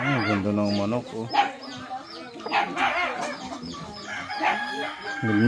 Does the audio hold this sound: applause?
no